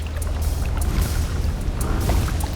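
A white boat out on open water, heard as a steady low rumble with a constant wash of water noise that runs unbroken throughout, fairly loud and close, with no voices.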